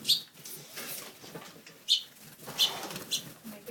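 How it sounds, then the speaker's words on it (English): Birds trapped indoors beside an open window chirp in short, high bursts over a faint coo, with occasional soft wing flutters, fairly close and without talk. "How am I going to get these birds out of here?"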